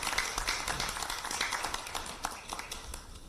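A crowd at an indoor capital-markets roundtable in Korea applauds in a dense, steady patter of many hands clapping at once, sustained throughout at moderate volume.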